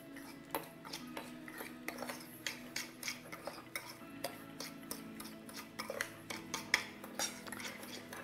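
A fork clinks and scrapes against a bowl while stirring peach pie filling with spices such as clove and allspice, a steady run of close, light metallic taps, about two per second, with no talking.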